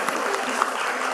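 Audience applause at a craft symposium in a London museum hall, a short, steady wash of clapping with no voices over it.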